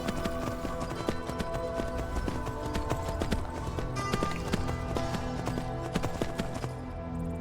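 Hooves clip-clop in a brisk, steady rhythm as a horse is ridden in Skyrim, with a continuous run of close, even footfalls over game ambience and no talking.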